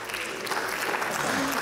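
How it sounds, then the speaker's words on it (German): Applause in the Austrian parliament, a dense, even patter of many hands clapping at moderate distance, held steady for a moment without any talk. "Applaus"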